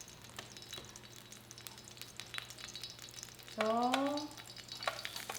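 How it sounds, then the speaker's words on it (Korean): Sliced onion, shiitake mushrooms, carrot and bean sprouts stir-fried in hot oil with a wooden spatula give a constant sizzle with scraping strokes, while a voice speaks briefly partway through. "볶는 순서는 양파, 표고, 당근, 숙주 순으로 볶도록 하겠습니다"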